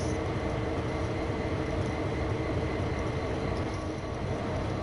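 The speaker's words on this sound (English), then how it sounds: "I'm playing a train sim game" Train running in Train Sim World 2, a steady rumbling roll of wheels and motor droning continuously at an even level, with no voices over it.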